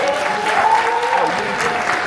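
An awards-event audience applauds the nominees: a dense, steady wash of clapping from a crowd, fairly loud and continuous with little talk over it.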